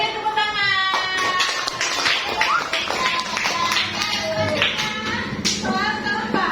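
Children in a classroom clap together amid loud, overlapping young voices calling out, the claps blending into a dense, noisy burst that fills the room.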